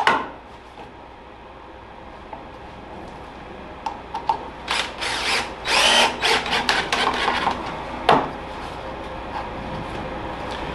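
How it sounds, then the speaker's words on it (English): A power drill whirs in several short bursts against a quiet background, driving screws into thin wooden boards for a bonsai box with rising, straining spurts near the microphone. "line it right up there on that line and start my drilling process"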